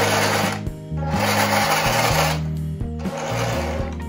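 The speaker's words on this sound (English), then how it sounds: "this tank did come with metal gears, which is why it makes a kind of a weird sound when it goes around" A 1:16 Heng Long Panther RC tank with metal gears drives along, giving off a loud mechanical whir whose pitch steps up and down, with brief dips in the drive noise and no voices.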